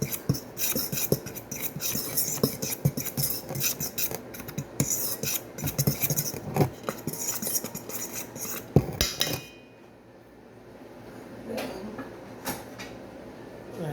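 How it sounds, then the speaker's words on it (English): Dry flour and salt being stirred together in a bowl for pizza dough, giving steady scraping and clinking utensil-on-bowl sounds for most of the time, then tapering into quieter, sparser rustling near the end. "So I'm going to mix it together to incorporate the 2 flours together"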